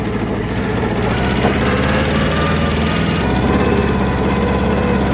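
A 9.5-horsepower Kubota mini tractor engine runs steadily and loudly up close, a continuous low rumbling drone with vibration and no pauses.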